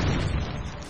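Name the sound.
cannons firing in the video game Castle Clash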